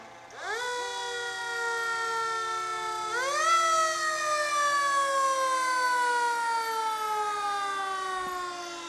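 An ambulance siren in a town parade winds up, then wails in long slow sweeping tones, holding close by and steady for several seconds before easing off.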